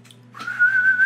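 A person whistling a short, rising then steady single note, close and fairly loud, preceded by a brief breathy attempt, with no talking.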